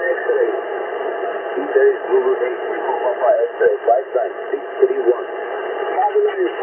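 A Turkish amateur radio station comes in on the 20 meter band through a Yaesu FT-710 receiver, a band-limited voice talking over steady hiss and faint static for several seconds.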